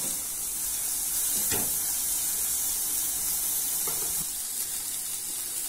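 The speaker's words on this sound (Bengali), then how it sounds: "ভালো করে নাড়িয়ে নেব" Momo soup is stirred in a pan over a steady, close hiss of simmering and sizzling, broken by a couple of soft spoon scrapes against the pan.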